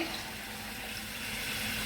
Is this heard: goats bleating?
no